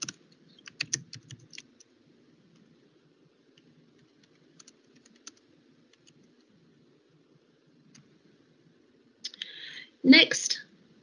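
Sparse keyboard typing into a post-it note in Microsoft Teams: scattered soft clicks near the start, then a quick louder burst of keystrokes at the end, all fairly close and alone.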